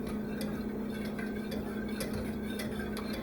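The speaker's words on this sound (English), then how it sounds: "Alright, let me just keep whisking." Polenta with nutmeg being whisked in a pot, a steady close scraping and stirring texture with light rhythmic metallic ticks over a constant low hum.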